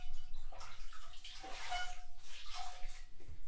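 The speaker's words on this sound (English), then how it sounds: "take a face cloth and rinse it in warm water." A face cloth is rinsed in warm running water, with close splashing and wringing swishes in uneven bursts and a steady trickle beneath, no talk.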